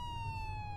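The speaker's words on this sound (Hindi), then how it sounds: "बस एम्बुलेंस की सायरन की हल्की सी आवाज़ आ रही थी।" An ambulance siren holds a steady high wailing tone, faint and distant, over a low rumbling background, heard alone without any talking in a brief moment of a horror story.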